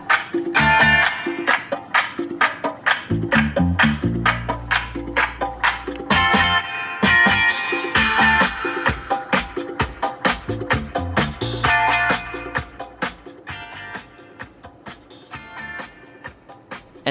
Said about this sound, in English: What you are hearing now is the 10-speaker ELS sound system.